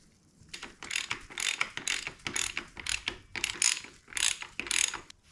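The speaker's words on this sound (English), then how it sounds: "Now we can bolt up our caliper." Ratchet wrench tightening titanium brake caliper bolts on a Honda CRF150R dirt bike, several quick bursts of clicking pawl strokes in a steady rhythm, close and clear with no voices.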